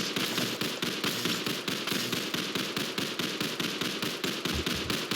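A tower in the Tower Defense Simulator video game fires in a rapid, unbroken stream of sharp cracking shots, dense and loud throughout with almost no gaps.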